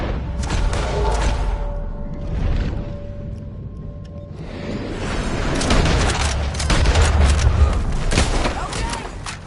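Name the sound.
gunfire in the video game Red Dead Redemption 2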